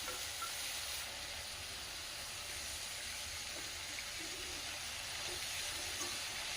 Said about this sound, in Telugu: పాలకూర మొత్తం ఇట్లా వేసేసుకున్న తర్వాత మంచిగా ఫ్రై చేసుకోవాలి